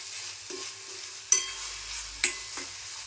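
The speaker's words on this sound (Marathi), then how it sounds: "हां व्यवस्थित तेल सुटेपर्यंत परतून घ्यायचं." Black masala paste sautéed in oil in a pan, a soft steady sizzle broken by a few scraping stirs of the spoon, close and without talk.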